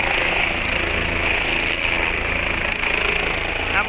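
A helicopter flies at the Kedarnath pilgrimage site, its engine a loud, steady mechanical drone with a constant whine that runs unbroken through the whole stretch, with no voices over it.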